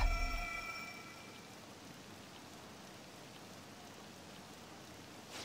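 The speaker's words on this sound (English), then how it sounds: "This rain ain't too bad." Steady rain falls in Persona 5 Royal, a soft even hiss of broadband noise that holds throughout, with a brief tonal game sound fading out at the start.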